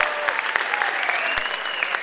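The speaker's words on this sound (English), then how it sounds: "So I want to clap for you, students." Steady crowd applause fills a 2019 high school graduation commencement at River Rouge High School, many hands clapping continuously and densely throughout, with no clear speech over it.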